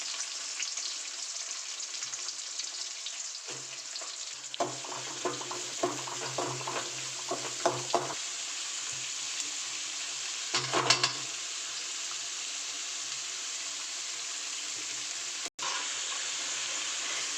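Mustard seeds, cumin, curry leaves and onion frying in oil for avarekalu masala chitranna, a steady hiss with bursts of crackling spatter midway and a sharp click near the end, no voices.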